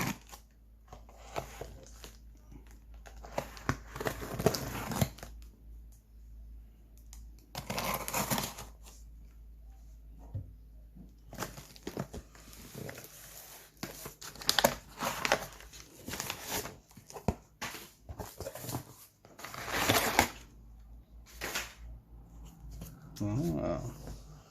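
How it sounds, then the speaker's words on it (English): A delivery box holding a board game comic collection is cut open and unpacked: scraping, tearing and rustling of cardboard and packing, with a few sharper cutting strokes, close and busy, and someone talks now and then. "This just arrived, so let's cut it open."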